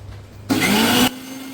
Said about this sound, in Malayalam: മിക്സി ഇപ്പോൾ ഞാൻ സ്റ്റാർട്ട് ചെയ്യുന്നതാണ്.